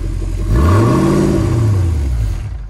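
A Jeep 4x4 engine revs hard while stuck in mud, a loud close roar that climbs in pitch, holds, then eases back down over a few seconds.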